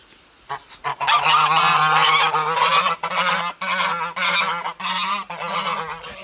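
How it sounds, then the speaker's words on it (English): Several geese honk loudly and repeatedly, close by along the Aare river in Bern, in a noisy overlapping series of harsh calls. "you can hear the geese hopefully here in the background."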